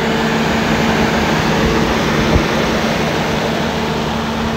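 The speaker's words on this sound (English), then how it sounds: "It's obviously where most of the generators are kept." Fairground generators running behind the rides, a steady loud mechanical drone with a constant low hum and faint tonal whine, continuous and unbroken with no talking.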